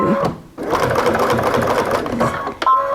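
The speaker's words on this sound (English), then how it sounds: "And then I'm going to back stitch a little bit," Sewing machine back-stitching through folded towel fabric for an oven mitt, running loud and close in steady whirring bursts, with a short pause near the start and a brief stop toward the end.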